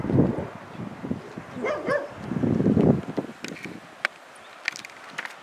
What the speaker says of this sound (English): the dogs aren't barking near as much as they've been